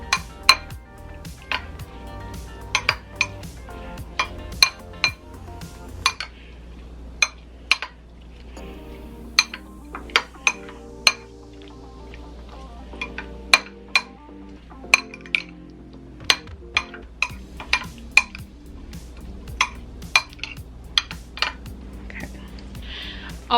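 Ingredients for a chicken quinoa bowl are stirred in a pan, with a utensil striking the cookware in a long series of sharp, bright clinks and taps, spaced irregularly and heard close, without talk.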